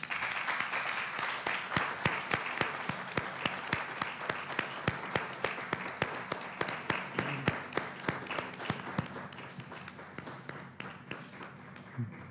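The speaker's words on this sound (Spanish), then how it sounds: "quisiera pedir unos segundos de aplausos para Bulmaro García" Audience applause at a colloquium on racial profiling in Mexico City, honoring Bulmaro García Zabaleta: a steady room-filling patter of many hands with sharp individual claps standing out, tapering slightly toward the end.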